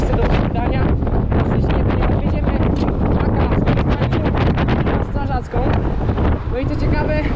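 Loud, steady wind buffeting the microphone, a constant roaring rumble throughout with a voice talking underneath.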